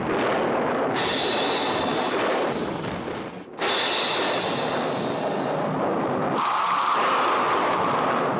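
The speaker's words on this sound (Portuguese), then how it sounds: "Preparem a tempestade." Studio storm effect made for a 1940 film: loud, dense rushing roars like heavy rain and thunder come in three sustained surges, with a short dip between the second and third.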